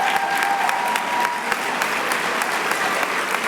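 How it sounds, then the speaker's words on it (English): An audience at an awards ceremony applauds loudly and steadily, a dense, even roar of clapping that holds for several seconds. "Can we have a round of applause for them?"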